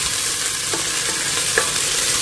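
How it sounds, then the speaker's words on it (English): Red onion sautéing in a pan gives a loud, continuous sizzle with a couple of faint scrapes of a utensil stirring through it. "now I'm sauteing some red onion"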